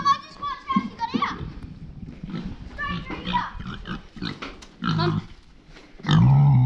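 A pig on a farm grunts and oinks in short bursts, close by, mixed with children's chatter and playful voices throughout.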